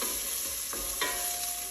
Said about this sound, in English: first we're gonna just saute up some onions and garlic